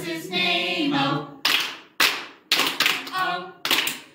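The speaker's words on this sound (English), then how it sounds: "Now we have four claps." Children and adults clap hands during the Bingo song at circle time, first singing, then sharp clap bursts in groups, some claps landing a little unevenly.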